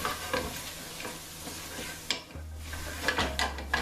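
Turmeric and spices stirred in a hot pan for chole, a close sizzle with rhythmic scraping strokes of a spoon and a low steady hum from the gas burner beneath.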